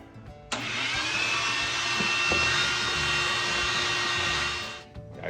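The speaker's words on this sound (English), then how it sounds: "All right, get the vacuum." A vacuum cleaner starts abruptly and whines loudly and steadily for about four seconds while cleaning out a lawn seed spreader used for ryegrass, then winds down near the end.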